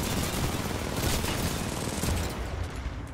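Heavy sustained gunfire in Titanfall 2 combat, a thick, continuous barrage of rapid shots that stays loud and close throughout, tapering slightly near the end.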